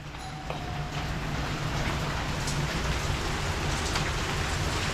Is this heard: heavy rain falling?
yes